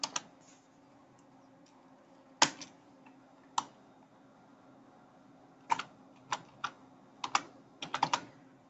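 A name is typed on a computer keyboard in short bursts of crisp, close key clicks separated by pauses, the taps clustering faster toward the end, with no voices.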